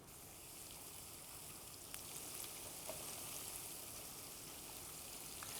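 Sliced onions fry in oil in a handi, a soft, steady sizzle that is faint and continuous throughout, with no talking.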